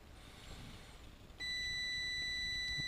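A digital multimeter gives a continuity check with one steady, high electronic beep that starts partway through and holds to the end, clear and close over faint background hiss.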